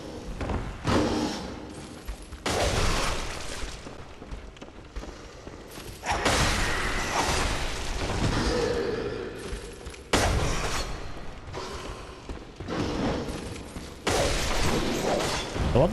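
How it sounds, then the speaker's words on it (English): Metallic clanging and thudding hits from a threaded cane weapon striking walls in the dark action game Bloodborne, several loud impacts in irregular bursts over game sound, no talk. "I love the threaded cane for the fact that seldom does it actually clang into walls like that."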